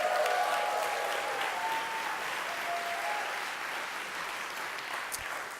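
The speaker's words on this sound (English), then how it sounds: "Please give a round of applause to Rip Jackson." An audience at an outdoor storytelling event on the green keeps up sustained applause, a continuous wash of clapping that slowly eases in loudness toward the end.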